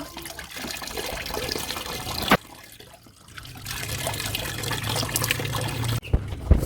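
Water is poured onto garden plants in a steady, close trickling stream that briefly stops partway through, then resumes before cutting off.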